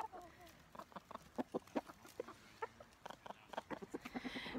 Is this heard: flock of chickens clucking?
yes